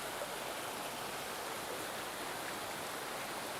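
Creek water runs steadily through the woods, a continuous broadband rush with no breaks, moderately loud and with no voices.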